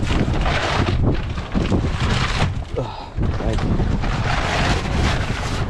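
Strong wind roars and buffets the microphone continuously, with a brief lull in the middle, over a background of water and rushing air.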